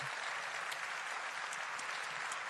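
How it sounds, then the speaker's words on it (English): An audience breaks into a round of applause, a continuous wash of clapping at moderate distance with a few sharper individual claps standing out. "Please, give them a big round of applause."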